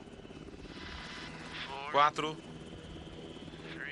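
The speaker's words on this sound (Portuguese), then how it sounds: "O helicóptero está em posição." Rescue helicopter hovering in position, a steady rhythmic rotor chop throughout with a person speaking briefly over it.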